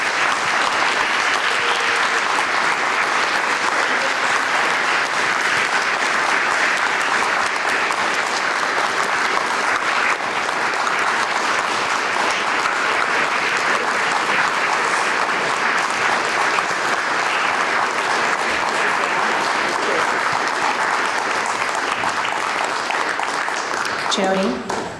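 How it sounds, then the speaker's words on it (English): A town meeting audience in Dummerston applauds the school board with steady, dense clapping that fills the room for about twenty-five seconds and fades out right at the end. "let's give them a round of applause"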